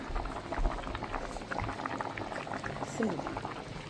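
Rice boils in a pot on the stove, giving a steady bubbling, gurgling churn close by. A person talks over it throughout.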